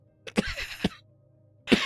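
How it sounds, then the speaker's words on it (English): A person coughs in three separate harsh bursts, two close together and a third after a short pause, fairly loud and close with no talk over them. "still got a cough"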